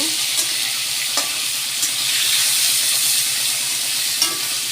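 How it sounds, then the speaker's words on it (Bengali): Pieces of pangas fish frying in an oiled pan, a loud continuous hissing sizzle with a few brief clicks of a utensil, close by. "তো মাছ প্রায় ভাজা কমপ্লিট।"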